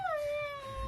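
A dog gives a single high, drawn-out whimpering whine that slides slightly downward in pitch, close and clear, alone without talk, in a dramatic film scene.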